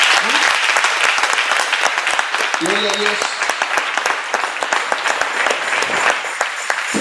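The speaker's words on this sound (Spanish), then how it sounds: "darle ese fuerte aplauso a Él" A church congregation bursts into loud, dense applause and scattered cheers, with a voice shouting praise over the clapping throughout.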